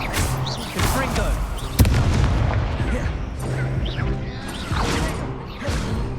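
Confringo explosive spell fired in Hogwarts Legacy during a chaotic duel, a punchy boom with a sharp crack amid continuous battle effects, other spell bursts and a voice talking over it.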